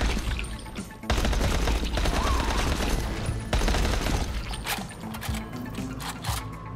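Dense, sustained gunfire rattles from a zombie-fighting game on a stream, loud rapid bursts packed together over heavy background noise, with a brief lull near the start before the shooting resumes.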